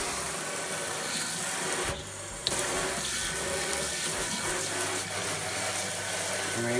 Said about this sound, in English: and then here's the spray hose